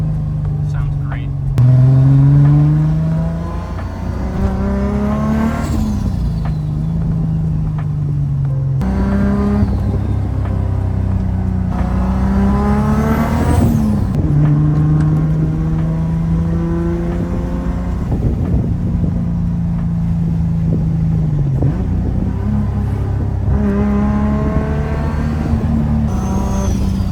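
A Toyota MK3 Supra with a 2JZ engine and 4-inch straight pipe exhaust revs repeatedly in loud, rising and falling bursts close by, with voices talking over the engine throughout.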